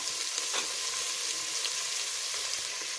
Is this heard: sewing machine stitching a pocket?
no